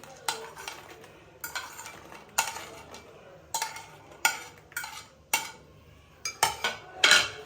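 An eleven-year-old mixes egg and sausage in a bowl, a utensil scraping and clinking against the dish in repeated sharp strokes, close and fairly loud, with no talking.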